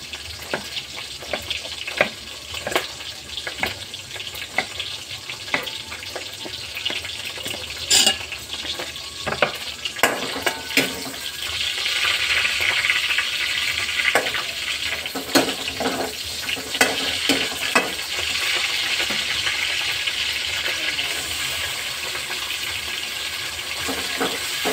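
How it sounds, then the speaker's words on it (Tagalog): Meat sautéing in a pan with tomatoes, chilies and pepper gives a steady sizzle. Frequent scraping and stirring clicks of a spatula run through it, and the frying grows louder partway through. Nobody speaks. "Ito yung karne, gigisa natin sa kamatis, sa mga sili, paminta."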